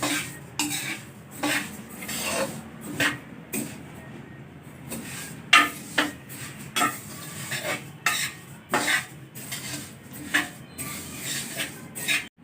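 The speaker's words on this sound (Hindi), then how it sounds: "पहले जी मैं अलसी को ये भून रही हूँ, अच्छी तरह इसको पहले भून लेंगे।" Flaxseeds roast in a pan while a spoon scrapes and stirs them, giving repeated close scraping strokes and clinks of metal on the pan over a faint sizzle, with no talking.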